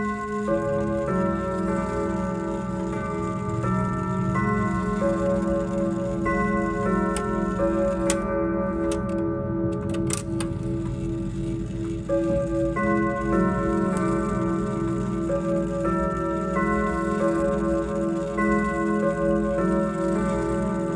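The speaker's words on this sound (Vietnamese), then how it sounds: "mời các bác nghe qua âm thanh của chiếc đồng hồ tủ cây này" Grandfather clock in a tall wooden case ticking steadily and evenly, close and clear, with no talk over it for the full stretch.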